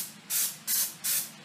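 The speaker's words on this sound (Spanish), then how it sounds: "Le vamos a poner poquito spray de cocina" Cooking spray misted from an aerosol can into a gelatin mold to grease it: three short, even hissing bursts in a steady rhythm, close and fairly soft, with no talking.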